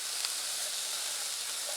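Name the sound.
food sizzling while frying in a pan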